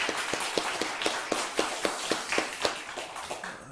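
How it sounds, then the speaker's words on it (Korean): A church congregation claps together in a steady, even rhythm, sharp regular beats repeating about four times a second, moderately loud and without talk. "감사의 박수 한번 치도록 하겠습니다."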